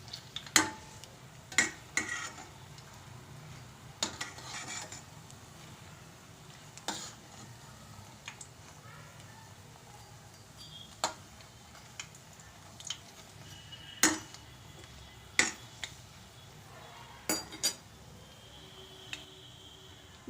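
Banana kofta being turned in a pan, with sparse, distinct clicks and taps of a utensil against the pan over a low, quiet background of gentle sizzling.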